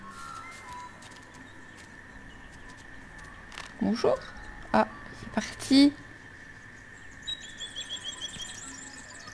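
A small bird calls in the wombat game Paperbark: a few brief chirps cluster near the middle over soft ambient game sound, while someone speaks French at the start and end.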